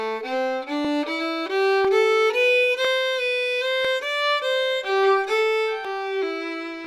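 Fiddle playing the opening phrase of the old-time tune Billy In The Lowground, a continuous bowed melody of quick stepping notes, close and unaccompanied.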